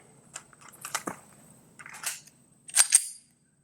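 A Glock 29 fitted with a 21-pound recoil spring fires 180-grain 10mm rounds. A few sharp, percussive bursts crack out, ending in two closely spaced reports, with quiet gaps between them.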